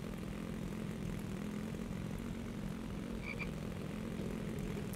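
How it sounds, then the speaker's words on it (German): In a video game, a frog gives a brief croak as it is run over by a vehicle, heard faintly over a steady, droning engine hum. "Habe ich gerade den Frosch überfahren?"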